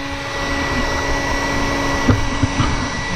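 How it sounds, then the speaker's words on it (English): A heat gun blows hot air inside a rusty steel fuel tank to dry it, a steady loud whooshing roar with a faint whine and a couple of light knocks near the end. "Gonna continue heat gunning it, not really leaving it in one place"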